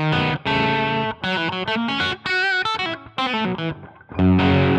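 Electric guitar lead played through British lead plexi and Silver Jubilee amp models in Amplitube 5, lightly overdriven, phrased as a run of bluesy single notes and bends with short pauses, close and clear with no talk.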